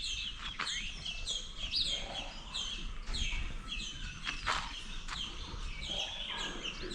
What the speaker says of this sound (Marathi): चिमण्यांचा पण आवाज येत असेल बघा तुम्हाला